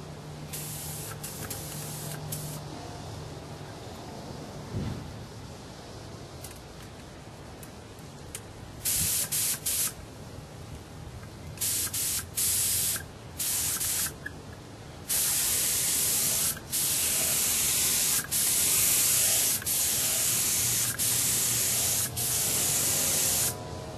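Spray painting an aircraft trim tab on a Corsair build, with bursts of hissing spray starting and stopping in a repeated rhythm, growing longer and louder toward the end, close up.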